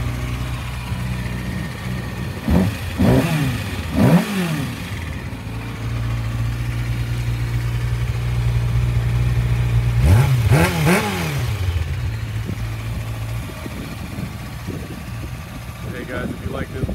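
A stock 2012 Kawasaki ZX-6R motorcycle idles steadily while being revved in sharp blips, two quick bursts early, then a longer steady rise near the middle and another pair of revs, close and loud, with brief speech.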